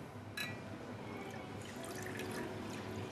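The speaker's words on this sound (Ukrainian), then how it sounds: "В сотейник наливаємо вершки" Cream is poured into a saucepan in a continuous soft trickle, close by and quiet, with a faint clink near the start.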